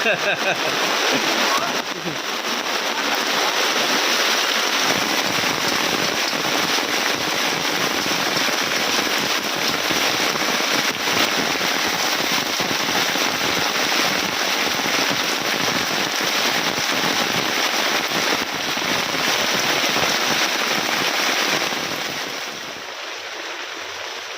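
Heavy rain pours down outside a home with clay-stove traditional cooking, a dense, steady roar of drops on surfaces that holds loud and even throughout before easing slightly at the end.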